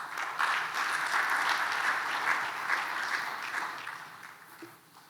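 Audience applause for a speaker at a CEO summit opening in Ghana, a full, steady clapping crowd that slowly tapers toward the end.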